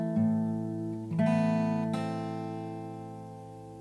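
Close fingerstyle acoustic guitar plays the opening of a song, a few plucked notes ringing out and slowly fading, alone.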